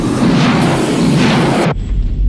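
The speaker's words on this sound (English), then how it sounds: "Missiles launched. We have two missiles launched." Two missiles launch in a 1990 film sound effect, a loud, roaring whoosh of rocket blast filling the space for under two seconds before it cuts off abruptly and leaves a low rumble.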